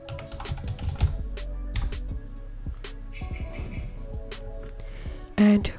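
Fingers type a web address on a computer keyboard in quick, uneven bursts of close, light key clicks, with a few heavier taps and a louder press near the end.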